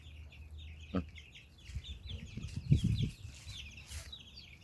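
Chickens and chicks cluck softly in an open ranging area, with low murmuring clucks and a few higher chick peeps, faint and scattered over several seconds.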